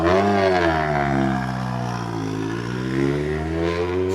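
Dani Sordo's WRC rally car at Rally Italy 2023, driving after a crash and roll, engine note steady and loud nearby with gently rising and falling pitch across the whole stretch.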